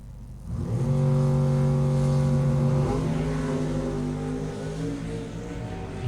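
Drag racing cars, including a Chevy, launching side by side down the strip at an ANDRA Sportsman Series meet in Portland: a sustained, rising engine roar heard from a distance, holding steady for several seconds.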